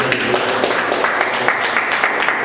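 Church congregation clapping together in praise, a dense steady wash of hand claps filling the space continuously and evenly throughout.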